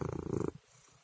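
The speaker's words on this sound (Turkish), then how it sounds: "Bu kediler uysal." Pet cats purring up close, a soft rhythmic rumble for about half a second that then drops away into near silence.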